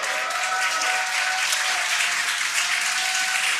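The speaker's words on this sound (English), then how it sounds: "You can hear the crowd here." A large crowd cheering and applauding as the Dragon Freedom capsule splashes down at sea, a dense, continuous roar of clapping and voices at steady loudness throughout.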